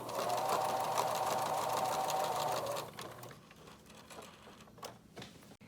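A sewing machine stitches a seam in mask fabric with a fast, close whirring run, then stops, leaving faint handling sounds.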